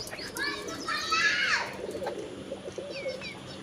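A pair of Baba Dhanne breed pigeons at a pigeon farm coo softly and close by, with a burst of warbling calls in the first half and quieter coos after, over low background murmur.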